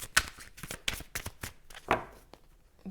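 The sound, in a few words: shuffling cartomancy cards for a love reading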